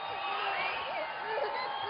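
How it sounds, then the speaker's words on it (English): A large crowd at a Trump rally in Tampa cheers and whoops continuously, a dense roar of many voices with scattered shouts rising above it. "The crowd went wild."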